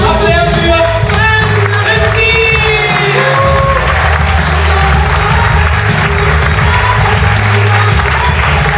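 Audience at a bar poetry slam claps to welcome the next performer to the stage, scattered applause mixed with cheering, under a loud, busy room with music and voices.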